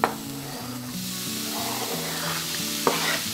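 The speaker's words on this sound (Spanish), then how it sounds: "añadimos un chorrito de aceite de oliva y le incorporamos ajo y cebolla picada" Garlic and chopped onion sizzle in a splash of olive oil in a pan over medium heat. The hiss is steady and close, with stirring scrapes and one sharp clink near the end.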